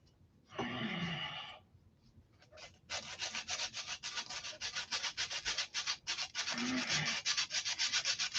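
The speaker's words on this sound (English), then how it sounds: "now start sanding" Rhythmic sanding strokes rasp back and forth, a steady scratchy rubbing repeated quickly and close by after an initial longer scrape.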